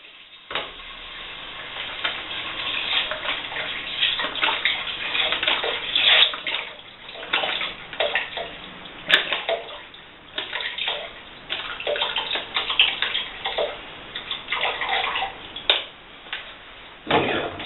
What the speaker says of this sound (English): all I'm going to do now is add my stock